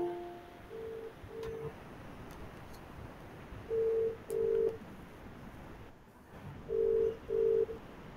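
A telephone being dialed: a series of six short, clear keypad tones sounding in spaced pairs against a quiet background hiss, with no voices.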